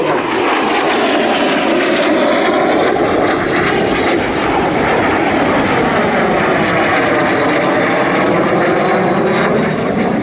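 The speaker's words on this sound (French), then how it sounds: "Turboréacteur d'ancienne génération, ce qu'on faisait dans les années 70." An old-generation turbojet airplane roars past at an air show, loud and continuous, with a sweeping whine that shifts in pitch as it flies by.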